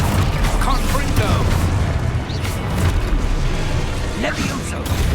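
Confringo fire-blast spells from Hogwarts Legacy go off in dense, loud, rumbling booms one after another, with a voice calling out over the clamor.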